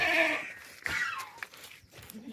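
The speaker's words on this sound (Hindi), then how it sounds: "ये बकरा देखें माशाल्लाह बहुत ही ज़बरदस्त बकरा है" A domestic billy goat of a desi breed, shown at a livestock sale for Qurbani, gives a loud, close bleat at the start, followed by quieter rustling and faint farmyard noise.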